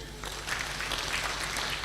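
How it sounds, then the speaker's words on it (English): An audience at a university inaugural lecture applauding, a dense continuous patter of many hands clapping that swells after a brief moment and holds steady to the end. "Please, let's give them a round of applause very well."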